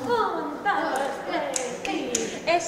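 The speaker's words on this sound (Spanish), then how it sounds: "aplausos emotivos de grandes y pequeños" Scattered clapping from adults and children at a family music event, irregular hand claps with a few sharp taps over a sung or spoken voice.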